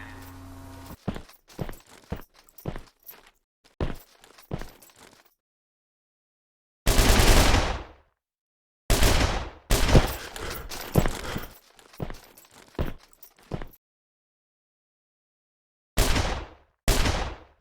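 Weapon gunfire in the first-person shooter game Red Crucible at an infantry training range, with quick bursts and single shots, several loud sharp volleys separated by silent gaps, close and alone.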